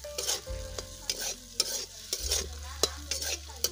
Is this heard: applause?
no